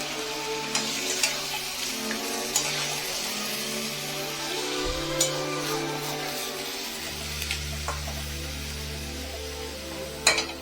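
Mutton sautéing on high flame in a pot for biryani, a steady sizzle with scattered crackles and occasional stirring scrapes over a low cooking hum, close and fairly loud.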